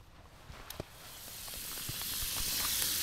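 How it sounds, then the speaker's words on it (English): Butter sizzles in a frying pan at a wild jungle campsite breakfast, a soft steady hiss that slowly grows louder, dotted with small pops and crackles, close by and with no talking. "Bit of butter just sizzling in the pan."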